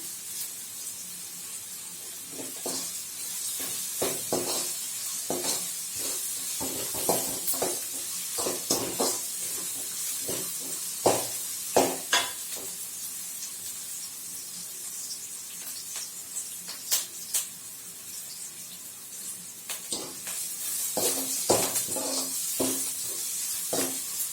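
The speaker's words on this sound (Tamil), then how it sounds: "வெங்காயம் வந்து ரொம்ப கருக விடக்கூடாது, ஓரளவுக்கு வதக்கணும், ரொம்ப வதக்கிடக்கூடாது" Onions sautéing in a pan with a pinch of salt and curry leaves for mutton rava upma: a continuous sizzle broken by frequent scraping strokes and clicks of stirring, steady and close throughout with no voices.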